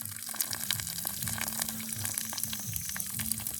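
Hot water from boiled cassava gushes out steadily and splashes onto grass, continuous and close, with no voices.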